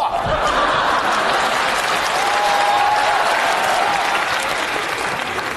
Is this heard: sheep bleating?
no